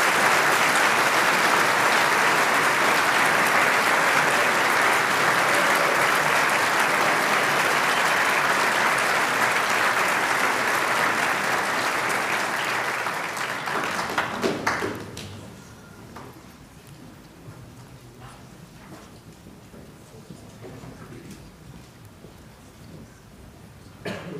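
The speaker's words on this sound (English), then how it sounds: "Please put your hands together for these students" Sustained loud applause from a large audience at a school Year 12 graduation ceremony, a dense continuous wash of clapping for about fifteen seconds that drops off abruptly into a few scattered claps and quiet room sound.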